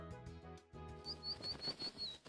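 In a video game, a bird flaps its wings in a quick run of soft, rhythmic beats with a few high chirps, heard over a tonal game melody.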